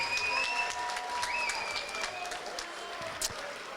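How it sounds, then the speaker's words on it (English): Steady applause from a ringside audience at a Muay Thai Grand Prix fight night in Birmingham, honouring both fighters after three hard-fought rounds, with faint crowd voices underneath. "a big round of applause for both these men, please"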